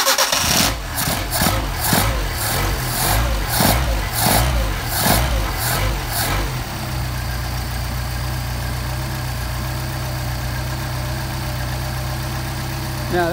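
A Mercedes 190SL engine with Solex carburetors cranks with rhythmic pulses, catches and settles into a steady, fast idle. The engine is loud and close, a continuous running drone after the start.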